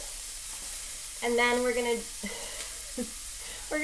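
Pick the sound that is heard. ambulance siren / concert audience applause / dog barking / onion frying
onion frying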